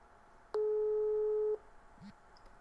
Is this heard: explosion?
no